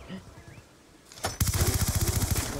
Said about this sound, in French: on est contre une mitrailleuse quoi